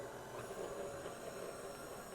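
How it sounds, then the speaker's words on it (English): An electric stand mixer churns peach crumb bar ingredients, a faint, steady mechanical whir running evenly without pause, no speech. "we're going to put it in the mixer and mix that up"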